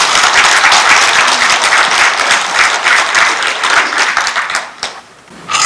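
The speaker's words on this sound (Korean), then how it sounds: "좀 박수 좀 보내주시기 부탁드립니다" Lecture audience at a Gimhae regional committee talk gives a loud, dense round of clapping that holds steady for several seconds, thins briefly near the end, then swells back up.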